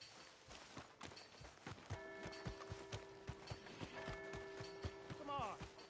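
Horse hooves clip-clop in an uneven walking rhythm in Red Dead Redemption 2, fairly faint, with a steady tone and other game sounds layered over part of it.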